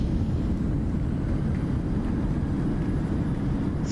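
Simulated airliner rolling out on the runway in Microsoft Flight Simulator with reverse thrust engaged, a steady, loud broadband engine roar that stays constant throughout, no voices.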